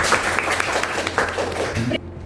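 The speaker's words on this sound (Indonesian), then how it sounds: "Tepuk tangan ya, Mbak Septi." Classroom applause for a student, Mbak Septi, during a teaching practice lesson: a short burst of clapping from a small group of students that stops abruptly, with a voice briefly under it.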